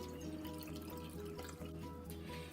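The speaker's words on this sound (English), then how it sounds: "And we're going to add in 1 1/2 cups of water." Water is poured into a pot holding sugar, cornstarch and salt, a steady trickling splash with drips over a low kitchen hum, close and moderately quiet.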